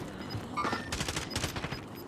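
Rapid bursts of automatic gunfire crackle in Call of Duty: Modern Warfare, several clustered volleys of shots rattling close and loud with no voices over them.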